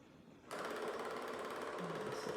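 A Narwal Freo X robot vacuum mop starting up indoors: after a quiet moment its motor kicks in abruptly and keeps up a steady, close mechanical whirring hum.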